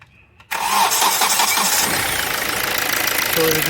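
A Hyundai Verna CRDI diesel engine, one with a late pickup and jerking fault, cranks and fires after a brief quiet moment, then settles into a loud, rough, clattering idle close to the microphone.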